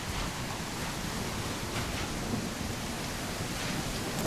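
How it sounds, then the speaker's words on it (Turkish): Steady rain with a rumble of thunder in the island-building video game Restore Your Island. A dense, even hiss stays constant throughout, with no voices. "Yağmur devam ediyor."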